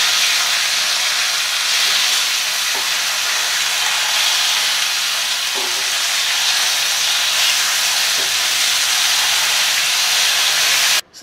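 Fish fries in hot oil with a steady, loud, bright sizzle and hiss that runs throughout, broken by faint small clicks, then cuts off abruptly at the end.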